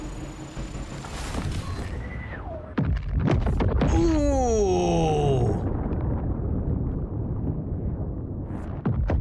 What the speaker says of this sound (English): Here come the cannons.